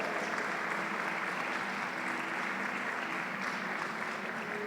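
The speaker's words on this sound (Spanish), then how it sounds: "damos un aplauso a Dios" Members of a congregation clap for God during a Sunday church gathering, a steady, even wash of many hands at moderate distance with no voices over it.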